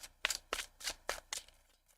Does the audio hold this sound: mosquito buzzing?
no